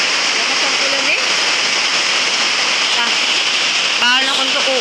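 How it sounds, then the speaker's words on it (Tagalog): Heavy rain pouring steadily, a dense loud hiss throughout, with a person talking briefly over it. "Lakas ang ulan eh."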